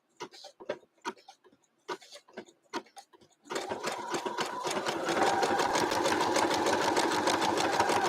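A sewing machine straight-stitching lace onto a quilt block starts with a few slow, separate clicks of hand-turned stitches, then runs into a fast, steady mechanical whir up close, with no talk.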